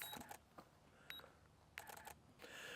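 Several sharp camera shutter clicks and beeps from a camera shutter release, spaced irregularly over a quiet background, close and crisp with no talking.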